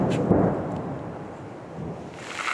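Thunder rumbles low and broad amid steady rain at a frontline military position, a soft, distant roll that swells briefly and fades.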